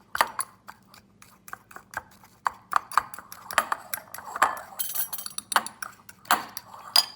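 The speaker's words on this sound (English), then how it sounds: "the first thing we need to do is mash the garlic into the salt, turn it into a little bit of a paste" Garlic being mashed into kosher salt into a paste, heard as a run of sharp, close ticking and clinking taps of metal against a hard surface in an irregular rhythm, with no voices.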